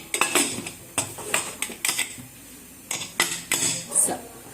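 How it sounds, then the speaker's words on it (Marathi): A metal lid clatters onto a pressure cooker of mutton in a series of sharp, ringing clinks, spaced out and close to the listener. "झाकण लावून घेऊ"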